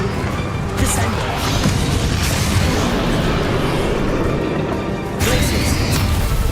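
Descendo spell cast in the video game Hogwarts Legacy, a loud, dense burst of magical crashing and rumbling booms that sustains throughout, with brighter bursts near the start and end.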